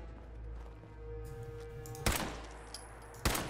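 Two sharp gunshots in Fallout 4 fired at a bloatfly, spaced about a second apart and loud over a low humming game background.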